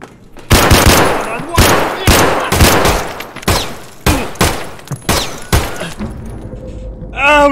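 Gunfire in Escape From Tarkov: loud, close bursts of rapid automatic shots repeating in steady volleys, ending in a few faint metallic clicks, while someone talks over part of it.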